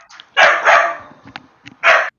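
A dog barks a few sharp times close by, with two strong barks and softer yips and whimpers between them, and no voices over it.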